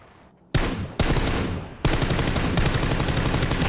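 Loud, close bursts of rapid automatic gunfire in a video game shootout, breaking into several sustained volleys with brief gaps between them.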